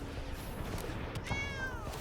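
A cat's meow from a card in the MTG Arena digital card game, a single drawn-out meow with a falling pitch over a steady low background hum of game audio.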